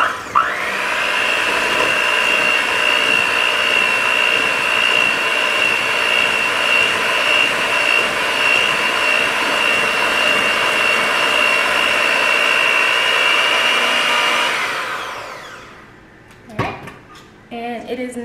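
Electric mixer whirring steadily through a batch of Christmas cookie dough, a loud, continuous motor hum lasting about fifteen seconds before spinning down, followed by a few faint clatters.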